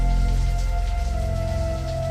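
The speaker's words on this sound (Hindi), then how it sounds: "बाहर बारिश थोड़ी और तेज हो जाती है।" Steady heavy rain falling outside at night, a dense continuous hiss of drops that holds strong and even throughout with no voices.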